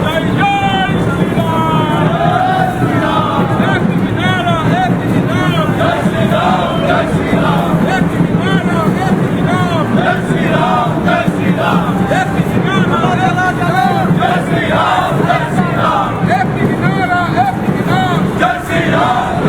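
Crowd noise from a Ram Navami procession in Balurghat, a dense continuous roar of many voices with rhythmic chanting, steady and loud throughout, with wind buffeting the microphone.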